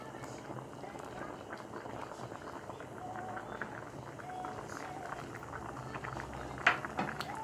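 Vegetable stew with peas simmering in a covered pot: a steady, soft bubbling and hissing that runs throughout at low level, with a light clink near the end.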